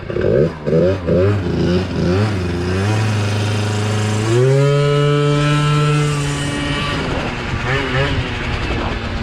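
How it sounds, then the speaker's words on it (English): A 1988 Honda Tact scooter engine while riding, first revving in short bursts, then a long rising whine as it accelerates, loud and close throughout. "GoPro, we're gonna test the scooter out."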